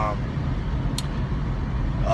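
A 2005 Honda Accord V6 coupe fitted with a K&N Typhoon cold air intake drives in the rain: a steady broadband road and engine roar with tire hiss on wet pavement, fairly loud and continuous throughout.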